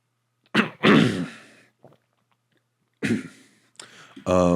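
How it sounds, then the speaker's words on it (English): A person clears their throat a few times, short rough rasping bursts close by, separated by brief pauses. "clear my throat"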